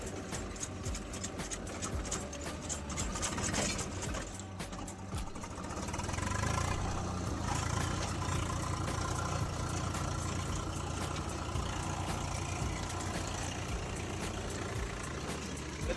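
A farm tractor engine running at idle outdoors, a low steady rumble with a slight swell partway through, fairly quiet and continuous, with no talk over it.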